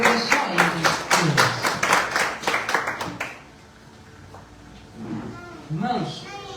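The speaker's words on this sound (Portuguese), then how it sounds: "Se puder aplaudir o nome do Senhor, pode aplaudir" Church congregation applauding, a dense burst of many hands clapping for about three seconds that then fades out, followed by a voice talking quietly.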